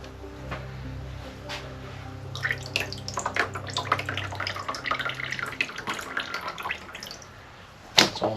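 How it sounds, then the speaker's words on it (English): Running water rinses a large carbon transfer print, the steady splashing and trickling continuing throughout with scattered drips and handling noises, ending on a sharp clatter. "I'll keep rinsing it, soaking it and rinsing it until no more black pigment runs off the print"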